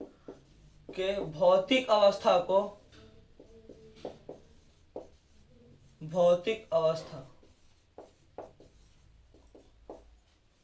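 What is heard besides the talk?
writing with a pen or chalk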